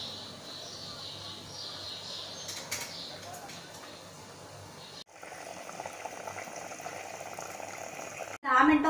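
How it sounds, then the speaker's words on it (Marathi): Malvani chicken curry bubbling in a pot on a high gas flame, a soft steady boil heard at close range, with a person talking over it for much of the time. "ह्याला आपण 10 मिनिटं शिजवून घेऊया मोठ्या गॅसवरती."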